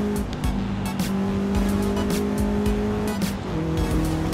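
A Subaru Legacy wagon's boxer engine in Forza Horizon 5 drones and rises through gears with a low, uneven rumble, steady and fairly close, without speech.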